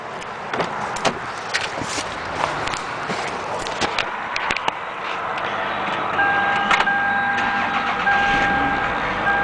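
A 2004 Toyota RAV4 with 95,000 miles and rear damage starts up, cranking briefly with clicks before settling into a steady, close engine hum that continues to the end.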